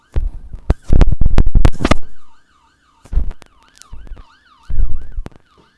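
A police siren wails in a rising and falling pattern for several seconds, following a burst of loud bangs and scraping up close; the siren stays steady while short thumps break in over it.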